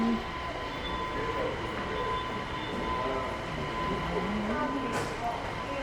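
Line 3 subway train in Seoul, a steady rumbling ride with rising and falling wheel whine and squeal, heard from inside at moderate level with faint voices in the background.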